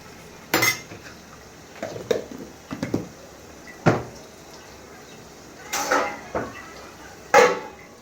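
Metal cookware clanks in a kitchen as a lid goes onto a cooking pan, with several separate knocks and clinks spaced out over a few seconds amid a quiet background and a faint voice.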